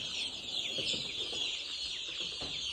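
Hens cluck softly in a steady, low chatter inside a poultry farm shed, fairly faint against a constant background hiss.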